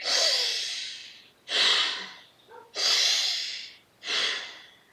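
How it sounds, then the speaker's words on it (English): Four exaggerated upper-chest breaths with lifted shoulders, two loud airy inhales alternating with two long audible exhales, close and alone with no talk. "We're breathing into the upper chest, and we're going to help kind of exaggerate that process by lifting up our shoulders a little bit."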